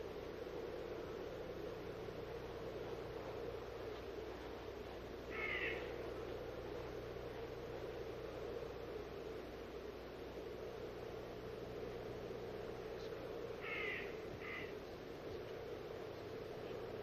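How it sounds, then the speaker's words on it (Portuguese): Common ravens, carrion feeders waiting near a wolf kill, give two short bursts of calls, one near six seconds and a double call near fourteen seconds, over steady wind and outdoor noise with no talk. "Corvos comuns comedores de carniça esperam que a águia se afaste."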